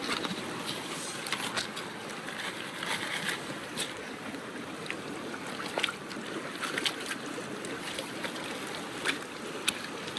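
Water and rocks swirl in a gold pan outdoors, giving a continuous close watery rush dotted with faint sharp clicks and taps of gravel.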